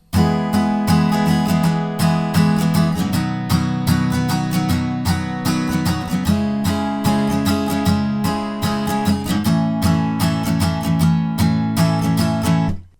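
Acoustic guitar strumming a song's strum pattern at a faster speed, bright rhythmic down and up strokes ringing through chord changes, close and loud with no talking.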